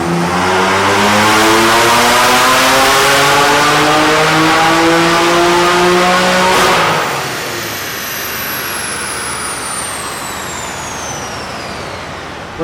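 A stage 2 tuned BMW M4 engine screams up through the revs on a dyno, harmonics climbing steadily for about six seconds before the throttle lifts and the tone falls away into a quieter wind-down with a high whine trailing off.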